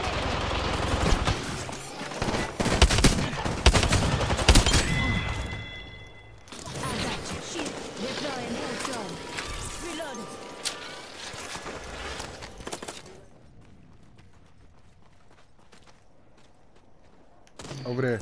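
Rapid bursts of gunfire during an Apex Legends match on PS4, dense and loud in the first half, then thinning into scattered shots and mechanical clatter before fading to a quiet stretch.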